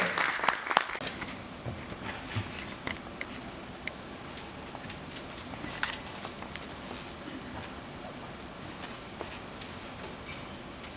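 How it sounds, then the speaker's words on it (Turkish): Audience applause at a symposium opening in a hall, a burst of clapping at first that thins into scattered, fainter claps and small noises. "Sayın Fatih Andı'yı değerli alkışlarınızla konuşmalar için Bursa'ya davet etmek istiyorum."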